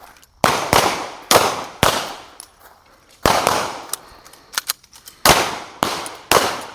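Handgun shots ring out at shooting practice, about eight sharp loud reports in an uneven rhythm with short echoing tails and a couple of fainter pops between them.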